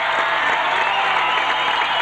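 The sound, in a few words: basketball crowd applauding a player coming onto the court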